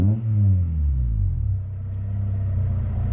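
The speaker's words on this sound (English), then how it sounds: "As I rev the engine, not having any low idle issues" Honda Prelude BB6 fifth-generation engine revving up and then settling, a deep throaty rumble that swells at first and eases down to a steady idle, close and alone.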